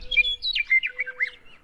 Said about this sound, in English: The western meadowlark.